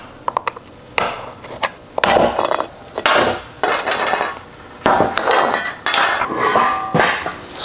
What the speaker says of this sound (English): I'm just gonna chisel the rest of this out of here.